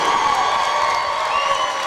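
Gymnasium crowd filing in before a game, a steady wash of distant voices and cheering echoing through the hall, brief and continuous.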